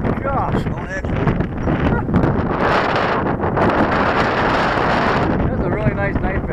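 Strong gusting wind at a model aircraft flying field roars across the microphone in a continuous heavy rush, with people talking underneath.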